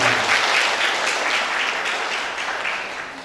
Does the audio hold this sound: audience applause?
yes